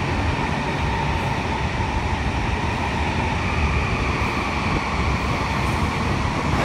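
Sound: CR400 Fuxinghao Revival Express high-speed train at Beijing South station

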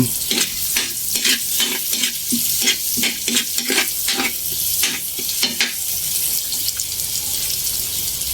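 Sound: garlic sautéing in a pan

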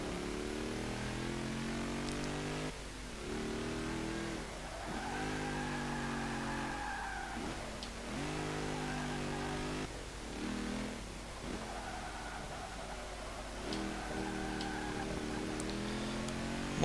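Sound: 1939 Maserati 8CTF race car engine revving, Forza 5 video game

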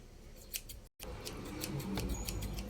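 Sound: scissors cutting while making a squishy

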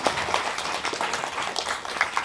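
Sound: audience applause in a cinema hall

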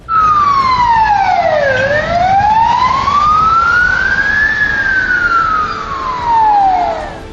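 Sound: emergency vehicle sirens

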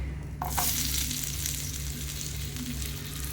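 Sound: onions sautéing in oil

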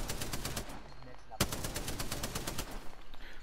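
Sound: gunfire in the video game Apex Legends

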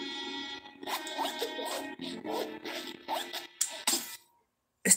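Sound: zipper being pulled in the video game Chicken Police

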